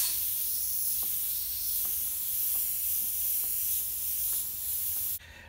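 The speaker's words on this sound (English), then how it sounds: "Sorry about the compressor." Airbrush compressor running with a steady, loud spray hiss throughout, faint clicks underneath, cutting off abruptly near the end.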